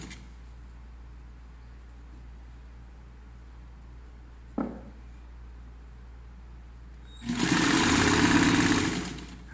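Sewing machine running a straight topstitch on thin linen for a shirt-style blouse, a steady whirring burst near the end of an otherwise quiet stretch, preceded by a single short knock.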